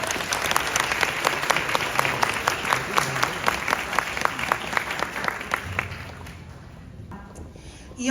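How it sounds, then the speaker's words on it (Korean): An audience at a school concert claps in steady, full applause that goes on for several seconds, then fades out. "큰 박수로 환영 부탁드립니다."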